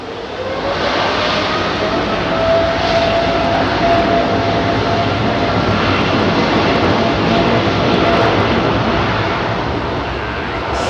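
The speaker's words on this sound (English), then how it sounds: "that particular aircraft" Aircraft on runway 27R at London Heathrow Airport, a loud sustained engine roar with a rising whine, close by and steady for the full span.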